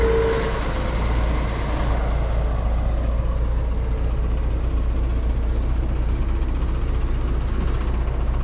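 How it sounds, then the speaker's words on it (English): Buses pass along a road in South Korea, a continuous loud engine rumble and tyre roar close by, with the heaviest surge early on, then a steady traffic drone. "Gotta wait for these buses to pass."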